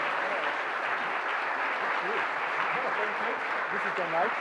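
Audience applause for a lecturer at an evening talk on happiness, a steady wash of many hands clapping throughout, with faint voices and murmurs rising through it toward the end.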